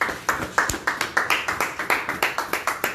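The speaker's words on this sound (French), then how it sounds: "Applaudissons la parole du Seigneur" A church congregation claps in a steady rhythmic beat, about five claps per second, close and fairly loud with no voices over it.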